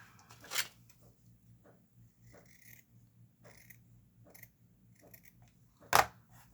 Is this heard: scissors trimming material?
yes